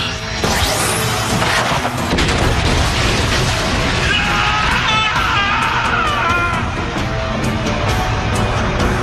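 Loud, dense blast and crash in a Dragon Ball Super anime fight, a sustained roaring burst with scattered sharp impacts and crackling debris throughout, no talking.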